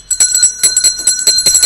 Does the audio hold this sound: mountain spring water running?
no